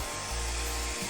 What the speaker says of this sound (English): Blow dryer painting.